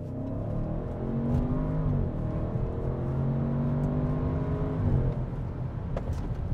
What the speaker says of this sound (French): je peux vous faire écouter l'accélération, le son, en fait, on va dire le son de l'accélération de cette RS6